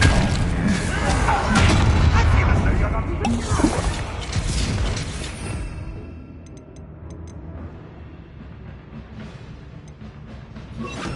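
A Confringo explosive spell cast in Hogwarts Legacy lands as a heavy boom with crashing, shattering debris, loud at first and then tailing off into a quieter rumble, with some voices in the mix.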